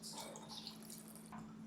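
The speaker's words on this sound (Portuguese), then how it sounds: "Eu vou colocar a mesma quantidade de água." Water poured into sake for homemade mirin, a brief close splashing trickle with a few drips over a steady low hum, short and soft.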